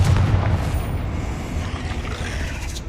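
Confringo fire-blast spell cast in Hogwarts Legacy, a deep booming explosive burst that rumbles and fades over a few seconds, loud and continuous with no talk.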